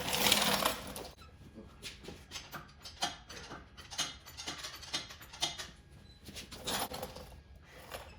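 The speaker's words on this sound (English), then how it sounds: "So let's get these bolts out" Bolts being loosened from the transmission mount of a Chevrolet C10 truck during an LS engine swap, with a ratchet clicking in short bursts and metallic tool clatter close by and at moderate loudness.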